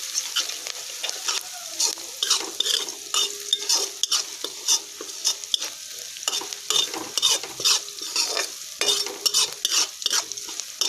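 Onions and curry leaves fry and sizzle in a pan for upma while a spoon stirs and scrapes them in quick, uneven strokes, close and steady throughout.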